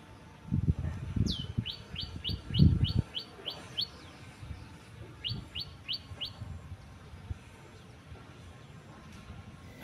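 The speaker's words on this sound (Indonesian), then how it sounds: "Ada suara burung, view-nya juga indah." Birds chirp in quick repeated bursts of high tweets, moderately close, over soft outdoor background rumble.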